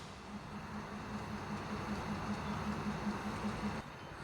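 A Wellington tram rolls along rails at a museum park line, a steady rumbling hum with a faint repeating wheel rhythm that holds for several seconds before cutting off near the end.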